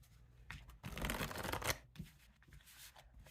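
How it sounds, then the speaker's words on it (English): A deck of tarot cards is shuffled by hand, a quiet rustle swelling into one longer riffling burst in the middle, then trailing off into a few softer flicks and slides close by. "get that one more good shuffle"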